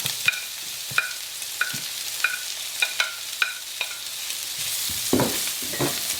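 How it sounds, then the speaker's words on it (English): Chopped half onion fries in a pan for chicken parmesan, a steady sizzle punctuated by a regular series of sharp metallic taps and scrapes from a utensil, growing busier toward the end. "I have a half onion chopped, so I'm gonna fry this onion here."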